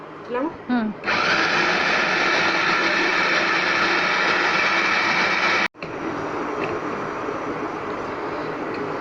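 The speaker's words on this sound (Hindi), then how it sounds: "अब इनको चॉपर में डालकर अच्छी तरह चॉप कर लेंगे।" Electric chopper whirring loudly and steadily as it chops half a kilo of onions with green chillies, a continuous motor drone that cuts out briefly then resumes, preceded by a moment of speech.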